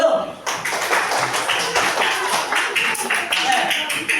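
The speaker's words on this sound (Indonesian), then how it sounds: "yuk tepuk tangan dulu" A small group claps hands together in a session room, a brisk, uneven patter of claps that runs steadily after a brief pause, with some voices mixed in.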